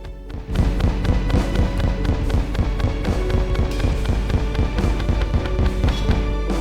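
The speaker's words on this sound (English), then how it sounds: "Fires a harpoon that sticks to enemies and explodes." Harpoon melee weapon in Terraria Calamity firing repeatedly, a rapid steady train of sharp popping explosions over a continuous bed of game music and effects.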